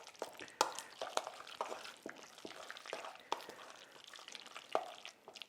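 A spoon stirs and scrapes through chicken salad mixed with extra pepper, giving a series of soft, irregular wet clicks and scrapes in a quiet kitchen.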